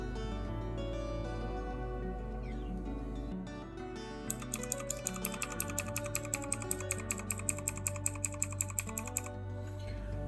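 A computer keyboard's F9 key is tapped rapidly and repeatedly during a PC restart to select a boot device, a regular train of crisp clicks over a steady machine hum and a held electronic tone.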